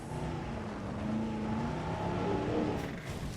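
A ranger vehicle drives through a dinosaur park in a management game, a low, steady motor drone close by with slight rises in pitch, alone with no talk.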